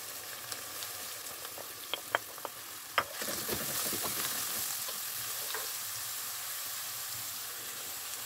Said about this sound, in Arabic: البصلة والفلفلة هما تشحروا مزيان